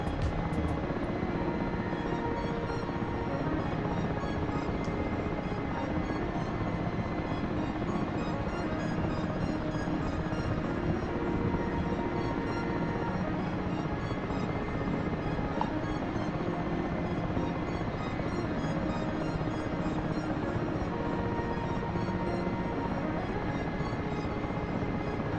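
Several Huey helicopters fly in the DCS flight simulator against an Mi-8, their rotor and turbine drone a steady, dense roar that carries through the whole stretch with no talk over it.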